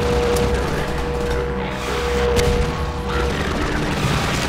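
Gunfire in Half-Life 2 during a fight with gunships and antlions, a loud, continuous barrage of booming shots and rumbling blasts that fills the whole stretch with no pause.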